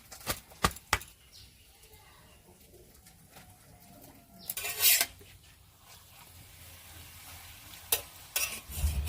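Yogurt paratha frying in a pan with a soft, faint sizzle, broken by a few sharp clatters of utensils and a louder scraping burst midway, while pigeons coo in the background.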